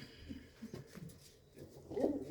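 Pigeons in a loft of paired breeding birds, faint soft cooing and low murmurs at close range, with a slightly louder coo near the end over quiet background.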